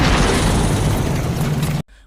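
A violent, sustained barrage of gunfire and blasts pounding a hut in a film scene, dense and loud from start to finish before cutting off abruptly near the end.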